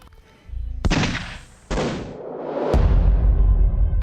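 Loud pistol gunshots in a tense dramatic scene: a sharp blast near one second, another sudden burst near 1.7 seconds and a third near 2.7 seconds, each followed by a dense roaring sustain, with no talk over them.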